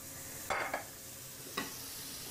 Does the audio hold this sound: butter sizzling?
yes